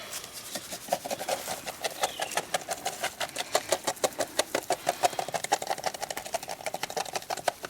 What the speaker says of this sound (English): I'm going to salt it all real good and rub salt in to the hide before I staple it down